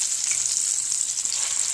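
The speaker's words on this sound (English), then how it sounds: "As you can see, the veal brain pieces are frying up." Breaded veal brain pieces frying in a pan give off a continuous, hissing sizzle of hot oil, close and steady with no voices.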